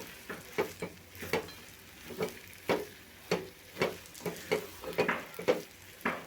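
Roasted dry fruits being stirred into shira, a soft semolina sweet, in a pan: regular scraping spatula strokes about every half second over a faint sizzle, quiet and close, with no voices.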